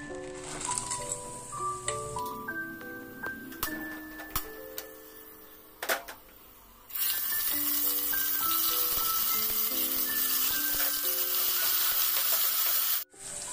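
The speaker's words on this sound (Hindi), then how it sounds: "अदरक, लहसुन और प्याज का पेस्ट ऐड करके 2 मिनट हल्का लो फ्लेम में फ्राई करूंगी" Whole spices, ginger, garlic and onion paste frying in oil over a low flame, a steady bright sizzle that swells louder partway through and holds, with light ticking clinks and background music tones throughout.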